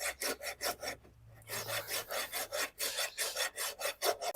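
During a barefoot trim, a tool scores a horse's hoof with steady back-and-forth rasping strokes, about three or four per second, close and clear, pausing briefly once before carrying on.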